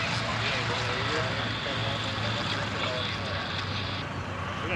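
A T-6 Texan propeller airplane landing at a World War II weekend airshow, a steady loud engine drone throughout with a person talking over it.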